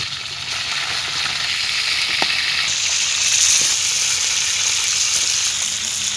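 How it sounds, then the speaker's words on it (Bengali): Close, steady sizzle and spatter of a fish frying in oil after being flipped, continuous and fairly loud, with small pops and a brief rise in hiss midway, and no voices. "মাছ ভাজা এক সাইড হয়ে গেছে,"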